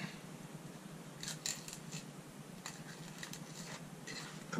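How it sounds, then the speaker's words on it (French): A knife slicing fillets from a horse mackerel (saurel) for sashimi, producing faint, close, scissor-like crisp cuts and scraping strokes in short irregular bursts, with no voice. "Pour couper le sorel, on fait les filets"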